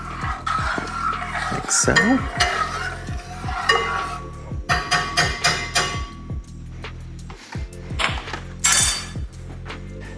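A spoon stirs quinoa in broth in a metal pot, making repeated clinks and scrapes against the sides. A person talks throughout.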